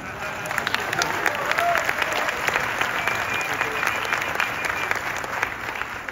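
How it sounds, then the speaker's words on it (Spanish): An audience at a film festival screening claps steadily and warmly throughout, a dense close wash of applause with scattered louder hand claps. "Siempre es agradable que nos aplaudan antes porque después nunca se sabe."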